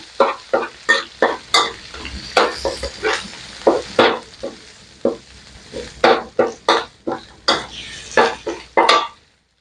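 Chilies sizzle and fry in a pan over a gas flame while a utensil scrapes and stirs in quick irregular bursts, close by, with no talking.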